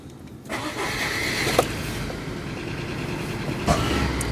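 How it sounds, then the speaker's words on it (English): A Rover K-series car engine cranks with a rapid whirring starter, then catches and runs roughly, misfiring with uneven sputtering pulses and a couple of sharper pops, close and moderately loud. "It's misfiring. However, it's starting better."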